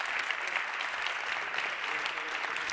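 Applause from the audience at a European Mobility Week award ceremony, a steady round of clapping from a sizable crowd with faint voices mixed in.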